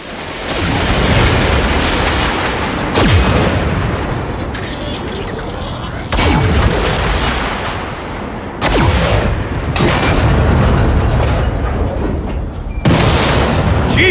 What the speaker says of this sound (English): I'm seeing explosions all over.